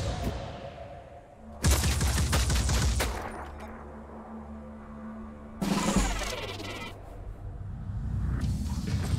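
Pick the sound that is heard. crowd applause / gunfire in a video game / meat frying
gunfire in a video game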